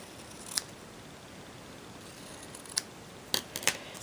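Scissors snip paper while a handmade birthday card is being made: a few sharp, isolated cuts, then a quick cluster of three or four snips near the end, all close up against a quiet room.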